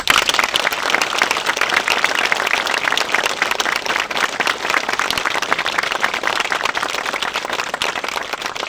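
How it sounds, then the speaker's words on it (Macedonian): A large crowd at a mayoral campaign promotion event gives a long, loud, dense round of applause that holds steady from start to finish without letting up. "присутните ги замолувам за еден голем аплауз"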